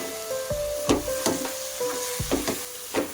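A spice mix fries and gets stirred in a pan for country chicken, with soft sizzling under repeated scraping strokes of a spatula and faint tonal squeaks, close and fairly quiet.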